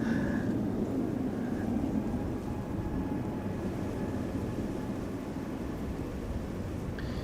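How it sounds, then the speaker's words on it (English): A KLM Embraer 195 E2 airliner flying near Amsterdam Schiphol Airport makes a steady, broad roar that holds at an even level for several seconds, with no voices. "E2 Embraer 195 to Birmingham is coming this way"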